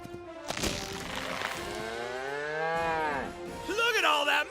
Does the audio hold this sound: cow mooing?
yes